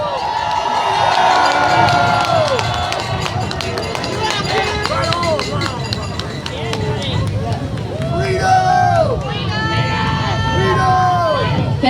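A rally crowd in Halifax cheers and applauds at a freedom protest, a loud sustained roar of clapping and shouting with whistles and voices mixed throughout.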